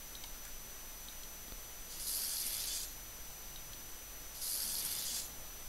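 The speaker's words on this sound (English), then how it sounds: "Use spray again because of the paper." Forensic spray bottle in the CSI 3D video game, misted over paper: two short, even hissing bursts about two seconds apart, each lasting under a second, over a quiet background.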